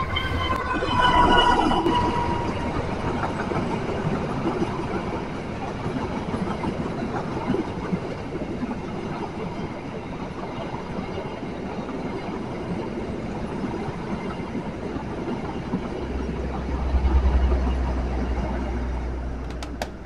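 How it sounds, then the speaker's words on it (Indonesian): An Argo Dwi Pangga executive passenger train hauled by a CC206 locomotive, running from Gambir to Solo Balapan, passes close by with a loud, steady rumble and rattling wheel noise, a brief squeal early on and a deep low drone near the end. "kereta Argo Dwi Pangga lokomotif CC206 dari Gambir ke Solo Balapan"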